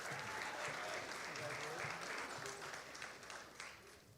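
A crowd applauds steadily for Presidential Award winners at a spring ceremony, dense clapping at full strength that tapers slightly toward the end, with no voices standing out.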